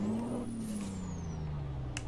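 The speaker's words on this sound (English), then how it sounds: "Get the truck fired up here." A heavy truck in American Truck Simulator starts up: a deep engine drone settles into a steady idle. A sharp burst of air hiss comes near the end.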